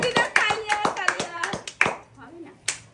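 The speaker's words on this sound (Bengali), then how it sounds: "হাততালি দাও সার্জিনার জন্য" A group claps hands in quick, rhythmic rounds of sharp nearby slaps during a lively fish-catching challenge game, with excited voices chattering over the applause before it trails off.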